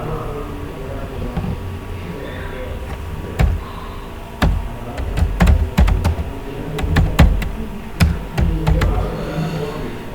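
Typing on a computer keyboard while entering a company name in Tally Prime, irregular bursts of close key taps with brief pauses between clusters, over a low background hum.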